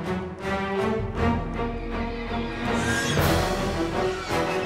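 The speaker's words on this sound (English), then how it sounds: "What you're hearing are the bats, giant bats, flying towards us." Swarms of giant bats from the King Kong video game flap and screech as they fly closer, heard as dense fluttering bursts over a rumbling game soundtrack, with no talking.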